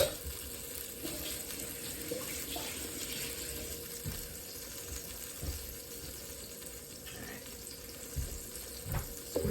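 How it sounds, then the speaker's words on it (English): Steady, faint hissing sizzle of a grilled cheese sandwich frying in a pan, with occasional soft clinks and crackles, no voices. "So we're hearing that sizzle"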